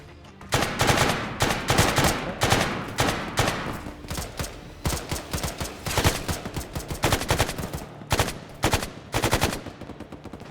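Rapid automatic gunfire from an Arma 3 firefight inside a building, with bursts of machine-gun fire and single shots crackling in dense, loud clusters, nearly continuous with brief gaps.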